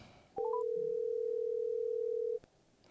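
A steady telephone tone hums for about two seconds, preceded by a few short rising dial blips, as a phone call is placed through a Zoom H6 recorder setup; clear and alone, no talking.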